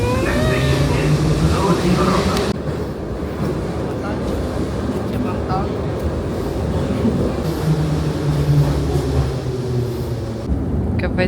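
Kyiv metro train running between stations, a loud steady rumble and roar of wheels and carriage throughout, with a spoken station announcement over it.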